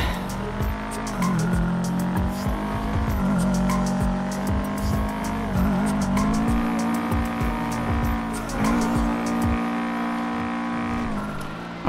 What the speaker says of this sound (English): I like how this car sounds.